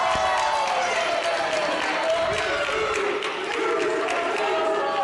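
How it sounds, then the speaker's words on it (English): A wrestling crowd at a bloody dog collar match roars and chants in a steady, loud wall of voices and cheering that fills the arena without pause. "The crowd's chanting 2."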